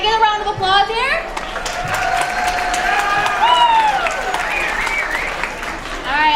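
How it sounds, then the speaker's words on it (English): A school event audience gives a sustained round of applause, dense steady clapping mixed with some cheers and voices, fairly loud and continuous across the whole stretch. "Can I get a round of applause here?"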